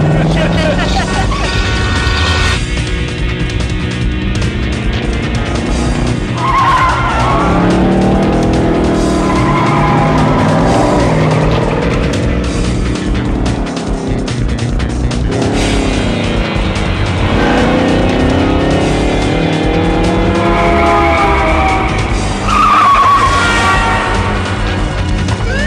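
Tires skidding and squealing in a car chase involving a blue two-door Plymouth heading south on Crenshaw, with engine roar throughout and sweeping squeals rising and falling under continuous voices and dense background sound.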